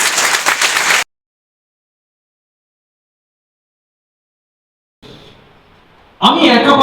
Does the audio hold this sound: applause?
yes